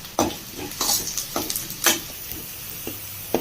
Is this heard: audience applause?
no